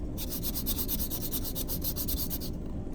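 Sandpaper rubs rhythmically against a coin ring as it is turned by hand, a steady run of quick, close scratchy strokes that stops abruptly near the end.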